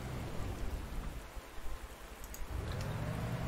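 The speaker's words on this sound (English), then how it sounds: "one thing is, it's raining" Steady rain in the war strategy video game Panzer Corps 2 hisses across the whole stretch, a dense even patter with a low rumble underneath.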